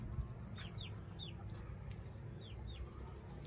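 A hen of an aseel and desi type clucks near a rooster, a few faint, short clucks spread over quiet farmyard background noise.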